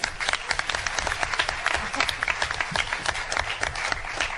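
An audience applauds Mr. Ducey, New Jersey FFA Advisor of the Year, at a Freehold Township event; dense, steady clapping fills the room at moderate loudness throughout, with no break.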